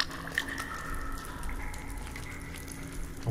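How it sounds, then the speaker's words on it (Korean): Running water in the survival video game The Forest, a soft continuous trickle and splash with faint dripping, heard alone at low level. "아 물소리"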